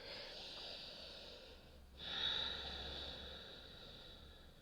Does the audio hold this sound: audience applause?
no